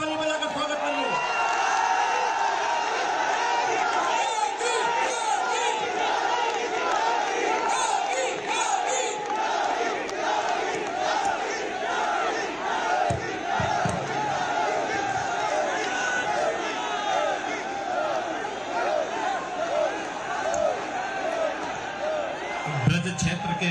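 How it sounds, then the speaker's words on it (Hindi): Large crowd at a BJP booth presidents' rally in Etah, Uttar Pradesh, welcoming Yogi Adityanath with sustained cheering, shouting and applause, a dense, loud roar that continues throughout. "जोर से ताली बजाकर स्वागत करिए"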